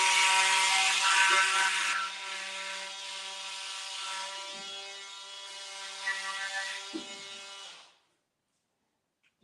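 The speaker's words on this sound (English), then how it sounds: "Just doing a little trimming." A power saw cuts and trims drywall on a large drywall job, a loud continuous whining buzz with harmonic tones that shifts pitch as the blade bites, then stops abruptly near the end.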